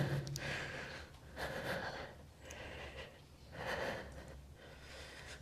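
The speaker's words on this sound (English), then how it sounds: "Excuse my breathing." During a yoga stretch routine, a person breathes heavily and audibly in slow, rhythmic cycles of inhales and exhales, close and fairly quiet.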